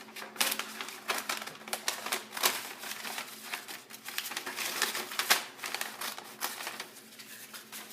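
Scissors snip through wrapping paper while a present is wrapped, giving a quick run of crisp cuts and papery crinkles close by, steady over about eight seconds with no talking.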